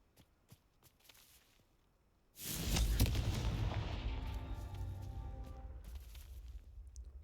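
A Confringo blasting spell explodes in the video game Hogwarts Legacy: a sudden loud, close boom after a quiet stretch of faint footsteps, then a long rumbling decay that keeps filling the rest of the moment.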